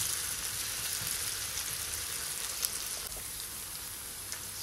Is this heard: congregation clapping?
no